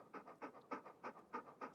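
Quick, regular panting from a dog in Stormworks, close and fairly quiet, about a dozen breaths before a short bright noise at the end.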